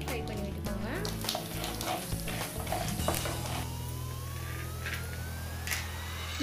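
Chana dal and urad dal crackle in hot oil alongside popped mustard seeds, a close sizzling with a few scraping stirs, while a faint siren-like tone rises in the background.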